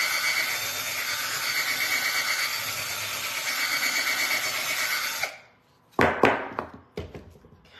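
Power drill boring into wood at a table edge, a steady loud whir for about five seconds that cuts off abruptly, followed by a few sharp knocks and handling clatters.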